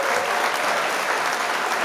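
Short burst of crowd applause: a dense, continuous wash of many hands clapping at even loudness, with no talk over it.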